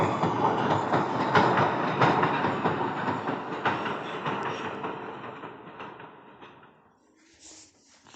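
A train rolls into a station platform with loud rumbling and clickety-clack that gradually fades as it slows, leaving near quiet at the end.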